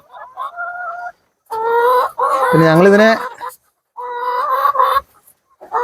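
Hens cluck and squawk in loud, drawn-out bursts close by, one rising into a crow-like call, with a few quiet spoken words between them.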